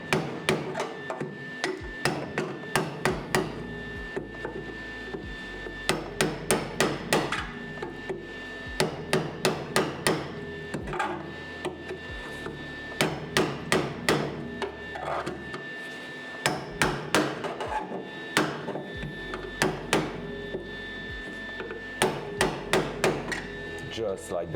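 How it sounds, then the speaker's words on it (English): Steel hammer repeatedly smashing a solid metal rod during rail repair on a Datsun, delivering loud, sharp blows in rapid bursts of several strikes separated by short pauses, close up with no talking. "I'm gonna use that, a hammer"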